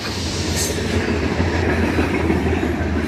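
A southbound KCS freight grain train rumbles past close by, a steady loud roar of wheels and rail cars with clickety-clack and faint squeal, no voices.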